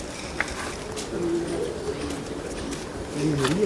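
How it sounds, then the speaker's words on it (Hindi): Pigeons coo softly in low, rolling calls, a few repeated phrases nearby over faint background noise. "अब ये कबूतर है"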